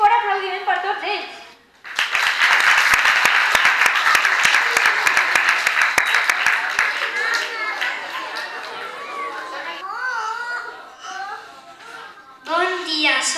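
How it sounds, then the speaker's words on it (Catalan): Audience applause at a school performance by second-grade children, loud and steady clapping for about eight seconds that fades, with talk before and after. "Un fort aplaudiment per tots ells."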